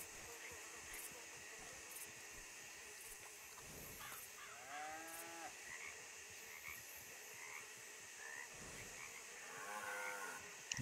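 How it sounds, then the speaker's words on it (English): Cattle moo in a rural neighbourhood, several drawn-out, wavering calls rising out of a hissy background, one group near the middle and another toward the end, with faint croaking-like noises scattered around them. "Um gado."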